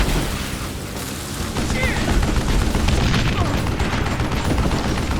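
Rapid gunfire in the western shooter game Call of Juarez Gunslinger comes as dense, loud, overlapping shots and booms, with a voice talking over the barrage.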